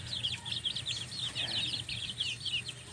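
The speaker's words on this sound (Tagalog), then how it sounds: "ayan ho yung mga manok natin." Chickens chattering and clucking in a steady busy flock nearby, with a low hum underneath and no voices.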